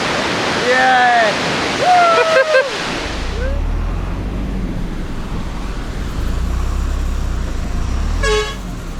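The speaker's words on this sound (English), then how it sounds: "This monsoon season, this waterfall is raising." A monsoon-swollen waterfall on the Kailash Kora trek in Tibet roars as a steady broadband rush after a loud opening of shouting and cheering voices, continuing alone, with a brief call near the end.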